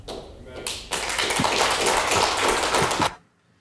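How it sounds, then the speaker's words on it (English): A handful of people in an audience clapping, a dense, close patter that builds quickly, holds for a few seconds and then cuts off, with a voice mixed in. "There are like 4 people clapping in there."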